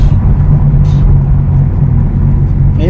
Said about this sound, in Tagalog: ang ganda ng tunog ng sasakyan